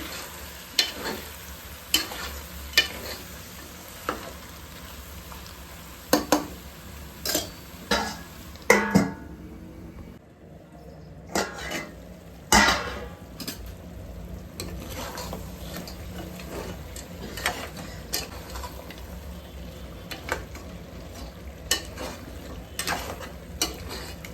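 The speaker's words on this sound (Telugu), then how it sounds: "మధ్య మధ్యలో కలుపుతూ ఉండండి అడుగు మారకుండా ఉండిద్ది" Goat head meat fries in oil in a pot under a low, constant sizzle, while a metal spoon scrapes and clanks against the pot in irregular bursts. The sound comes from close by, and nobody speaks.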